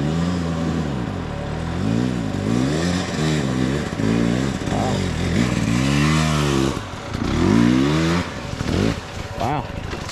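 An off-road motorcycle on a choppy trail revs hard and close, its engine pitch repeatedly rising and falling as the rider throttles over bumps, with a voice heard at moments.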